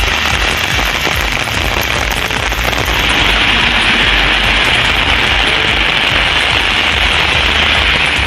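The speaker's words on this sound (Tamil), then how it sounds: "உதகை, குன்னூர், கோத்தகிரி உள்ளிட்ட பகுதிகளில் அரை மணி நேரத்திற்கு மேலாக கனமழை பெய்தது." Heavy rain pours steadily and loudly in the Nilgiris hill towns of Ooty, Coonoor and Kotagiri, a dense continuous hiss with no pauses and no voices.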